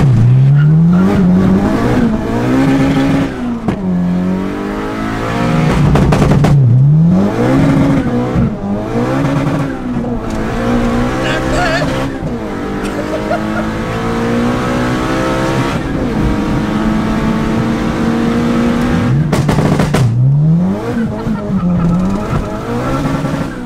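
A turbocharged B18 Honda Civic held on launch control bounces off the limiter, loud repeated revs rising and dropping in pops and bursts, sustained close up with no talking.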